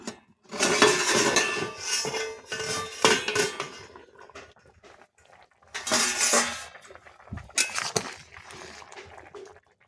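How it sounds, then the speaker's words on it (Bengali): The metal lid of a wok holding boiled vegetables such as eggplant and kohlrabi is lifted and handled, with close, loud clanks and scrapes in several bursts separated by quiet gaps. "এরপর কড়াইয়ের ঢাকনা খুলে আমি দেখব সবজিগুলো সেদ্ধ হয়েছে কিনা"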